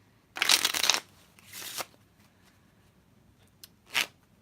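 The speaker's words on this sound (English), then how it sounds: "I'm going to go ahead and shuffle the cards." Playing cards are riffled in a quick crisp burst, followed by a softer second shuffle and a brief ruffle of cards squared up.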